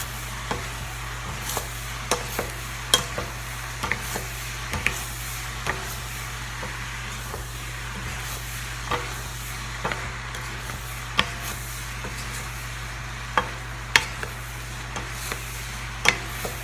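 Teriyaki pineapple rice with gluten-free teriyaki sauce is stirred in a crowded wok, a low steady sizzle under a long series of irregular sharp scrapes and taps of the spatula, close, without speech.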